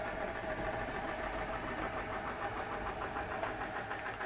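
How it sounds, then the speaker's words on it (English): A Huxtable hot air Stirling engine runs smoothly and steadily, giving a continuous mechanical hum with a faint regular pulsing throughout, close and fairly loud with no talking. "So happy with this Huxtable hot air engine. So smooth, absolutely beautiful."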